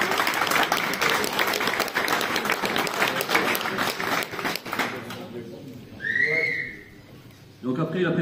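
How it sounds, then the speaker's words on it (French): Spectators at a hare-hunting hound pack competition in Bas-en-Basset applaud a handler and his dogs, steady clapping for several seconds that stops abruptly, followed by a couple of short whistles and a brief voice. "On peut les applaudir"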